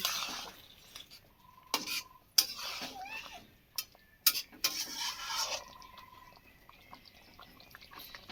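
A spoon stirs egg curry in a pan with freshly ground garam masala added, producing soft intermittent scraping and clinking strokes of metal on the pan, fairly quiet with gaps between them.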